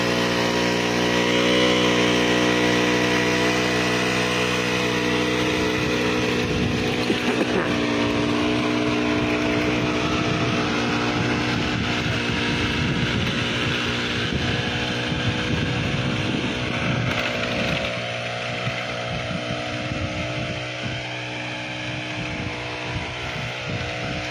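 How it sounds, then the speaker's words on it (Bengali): A small weeding machine runs in a field, its engine giving a steady, close, continuous drone with a strong hum that barely changes throughout, with no talking. "অল্প একটু সময়ের মধ্যে কত দূর আমরা নিড়ানি করে ফেলছি ছোট্ট একটা মেশিন দিয়ে"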